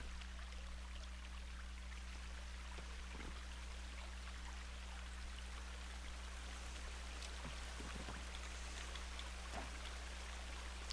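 Steady rush of stream water near a waterfall in the survival game The Forest, a constant broadband wash with scattered drip-like splashes and a low electrical hum beneath, no talk.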